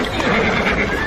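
Horse neighing in an audio drama set in Alexander the Great's camp, with elephants nearby, heard as a brief whinny mixed into a dense, loud scene with voices over it.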